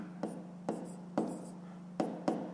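A pen writes numbers on paper, making faint, short scratchy strokes, about five separate soft scrapes spaced irregularly over a low steady hum.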